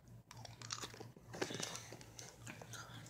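Close, crisp crunching and chewing of M&M's Coffee Nut candies, the crunch of several pieces bitten in quick succession at low volume.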